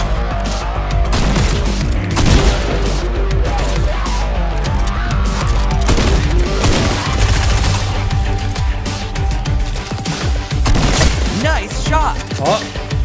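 Loud, rapid gunfire in the video game Fortnite, bursts of automatic shots and single cracks over about thirteen seconds, with a player talking excitedly over the action.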